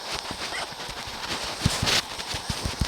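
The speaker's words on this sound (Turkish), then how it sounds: "ben bu atı hiç sevmedim. Benim arazimden dolaşıyor." A horse in the Minecraft video game clip-clops along in a quick run of hoof thuds at close range, with a faint whinny in the mix and no talk over it.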